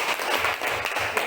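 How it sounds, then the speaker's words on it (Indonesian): A class of students claps in a brief, dense burst of applause in a classroom. "Oke, tepuk tangan dulu buat kita semua."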